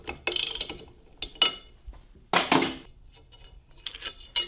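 A ratchet undoes the clutch puck nut on a VLR 100cc, giving several short bursts of close, crisp mechanical clicking with brief pauses between them.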